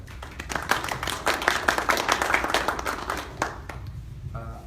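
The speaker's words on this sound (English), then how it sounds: "So a quick round of applause for them." Audience applause at a digital inclusion program meetup hosted with the Charlotte Mecklenburg Library, a steady burst of many hands clapping close by that thins out and fades near the end.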